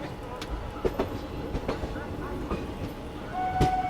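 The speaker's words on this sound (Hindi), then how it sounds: "और ये अपना अराइवल हो रहा है आगरा कैंट रेलवे स्टेशन पर।" A special train on the Delhi–Prayagraj route rolls into Agra Cantt railway station with a low rumble and irregular clacks of wheels over rail joints, plus a brief tonal squeal near the end, heard up close.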